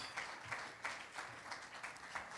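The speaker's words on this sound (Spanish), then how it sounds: "Podemos dar un aplauso al Señor, hermanos." Church congregation clapping together in a steady, rhythmic beat after a pastor's call to applaud the Lord, a dense, fairly quiet patter with regular accents and no talk over it.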